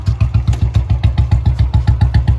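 A motorcycle engine runs close and loud at a steady idle, a rapid, even thumping beat with a mechanical clatter and no clear revving.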